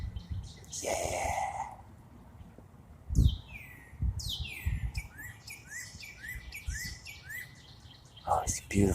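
A northern cardinal whistles a series of clear, downward-slurred notes, repeated in a quick run, with breathing and soft handling noises close by.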